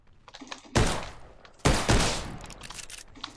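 German gun in the Trenches video game fires two heavy, booming shots about a second apart, each with a long rumbling decay, amid lighter clicks and handling noises.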